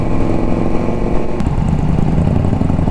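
A 20-lakh superbike's engine roars steadily and loud while riding on a highway, a continuous close growl with no speech over it.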